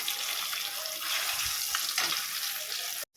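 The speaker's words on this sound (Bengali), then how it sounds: "আর এই একটা মাছ ভাজা করাটাই বাকি রয়েছে।" Fish frying in oil in a home kitchen, a steady soft hiss with a couple of low clunks and stirring touches, close and quiet, cutting off abruptly near the end.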